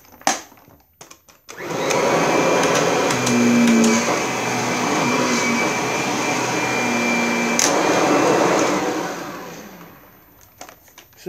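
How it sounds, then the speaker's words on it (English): A Kirby Sentria vacuum cleaner starts up and runs loudly and steadily with a broad roar for several seconds, then winds down. "So now I'm going to vacuum the living room again"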